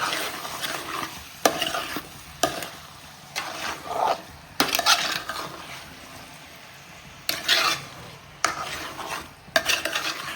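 Chicken biriyani masala is stirred in a pot, bursts of scraping and clattering spoon strokes against metal over a low sizzle, close up, with pauses between strokes.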